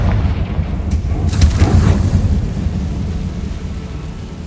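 A Confringo blast spell explodes in the Hogwarts Legacy video game: one booming, rumbling burst swells out of a steady low background and fades slowly, with no voices.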